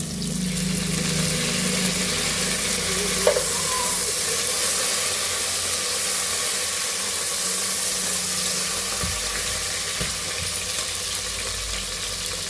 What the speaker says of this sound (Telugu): కొంచెం వేగాక పుదీనా వేస్తున్నాను